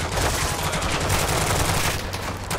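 Dense, continuous automatic gunfire pours onto a vehicle in a Call of Duty: Modern Warfare II DMZ match, loud and close with rapid overlapping shots throughout.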